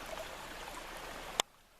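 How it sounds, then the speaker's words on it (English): A stream of water running downhill outdoors gives a soft, steady trickling wash, fairly faint, ending with a sharp brief click before quieting. "you can see the water. It's flowing up from up the hill."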